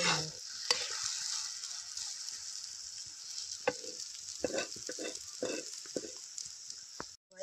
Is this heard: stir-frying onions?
yes